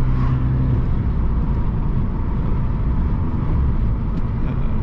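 Inside a Peugeot 208 1.4 HDi diesel hatchback being driven with the windows partly closed, a constant droning exhaust and road roar fills the cabin at a steady level without talk.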